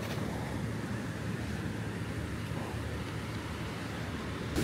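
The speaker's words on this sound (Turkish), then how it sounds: "Dalgalar surf için muazzam." Ocean surf on a long Bangladesh beach, a steady broadband wash of breaking waves mixed with wind buffeting the microphone, continuous and fairly close, no voices.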